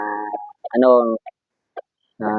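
Chickens let out a few short, close clucks between stretches of nearby talking.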